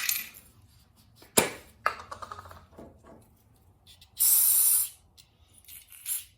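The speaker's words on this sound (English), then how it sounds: "So I'll spray this down a little bit, these pieces" Two bursts of carburetor cleaner spray hiss from an aerosol can, the longer lasting about half a second, among scattered clicks and clatter of small metal parts from a Homelite XL chainsaw carburetor being rebuilt.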